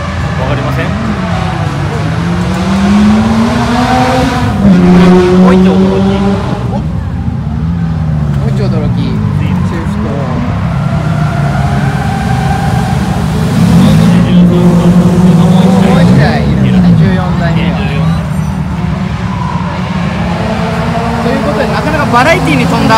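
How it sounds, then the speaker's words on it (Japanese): Several cars drifting on the Fuji Speedway short course, engines revving and wailing with tires scrubbing, loud and continuous over the full stretch as people talk throughout. "これ もうすでにコース上ではスポーツ走行が始まって ます。"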